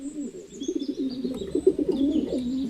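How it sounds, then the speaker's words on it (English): Pigeons coo in a low, rolling, continuous murmur close by, the soft throaty notes overlapping for a few seconds with faint higher chirps above. "Deep inside a dark and dense forest, there lived a happy flock of pigeons."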